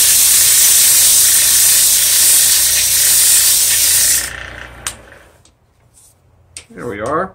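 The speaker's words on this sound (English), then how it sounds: "I'll just run a little sandpaper on that." Sandpaper rubs briskly over a wooden tool handle, a bright, continuous hissing scratch that stops abruptly partway through, followed by faint taps and a short stretch of speech.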